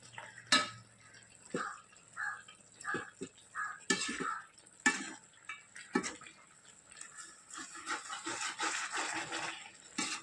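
Chicken fry cooking in a pan as the gravy reduces, with repeated clinks and scrapes of a metal spoon stirring against the pan over a faint sizzle, close and fairly quiet.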